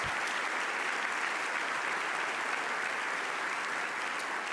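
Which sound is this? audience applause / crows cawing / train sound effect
audience applause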